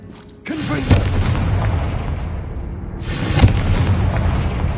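A Confringo spell in Hogwarts Legacy on PS5 sets off a heavy booming explosion, followed by a long rumbling roar and a second blast near the end.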